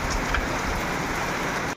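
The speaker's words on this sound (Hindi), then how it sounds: "कितनी तेज बारिश आने लगी।" Steady heavy rain pours down in a dense, continuous hiss, loud and close, with no voices.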